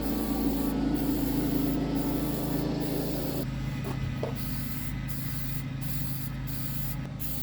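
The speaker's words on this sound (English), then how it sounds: "Here we go with some trusty rust paint." Silver rust paint hisses steadily from a spray can onto the trunk of a custom BMW E46 330Ci convertible, one long continuous close spray with a slight change in tone partway through and no talk.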